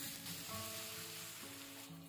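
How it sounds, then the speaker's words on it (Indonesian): Water poured into a hot pan of oil for a fish gulai with coconut milk and peanuts hisses and sizzles steadily at close range, a faint, continuous crackle. "Selanjutnya kita tuang air,"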